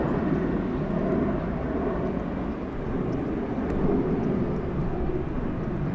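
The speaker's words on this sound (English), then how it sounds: "We have the LATAM 767 flying to Lima in Peru." A LATAM Boeing 767 airliner bound for Lima powers along at LAX, a continuous low jet roar that holds steady at a distance with no voices.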